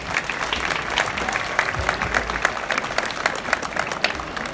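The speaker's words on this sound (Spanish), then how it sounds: "Un aplauso para Sof." Crowd applauding at a Mother's Day celebration in Sahuayo, continuous mid-level clapping from a gathered audience over several seconds, with no talking.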